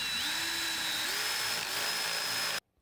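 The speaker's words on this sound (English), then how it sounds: "I'll also be drilling holes in both ends of the log." A power drill bores holes into the end of a log for a bird feeder, a loud continuous whine close up whose pitch shifts slightly as the bit bites, then cuts off abruptly.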